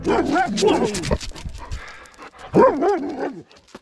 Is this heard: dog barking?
yes